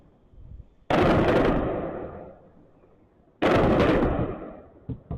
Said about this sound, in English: Those are the bombs going.